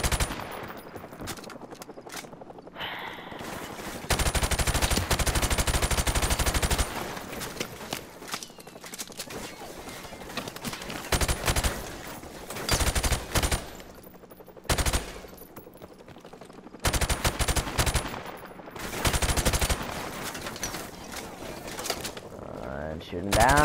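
Rapid bursts of machine gun fire in the Modern Warfare video game come loud and close, repeating in several separate volleys with short quieter gaps between them.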